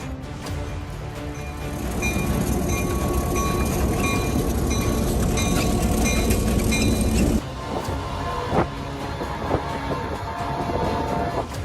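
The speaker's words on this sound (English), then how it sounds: "Snow doesn't stand a chance against this train charging straight through." A train charges through deep snow with a loud, continuous rushing roar and rumble that drops in level partway through, followed by scattered knocks and rattles.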